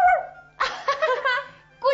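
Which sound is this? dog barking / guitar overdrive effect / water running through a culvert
dog barking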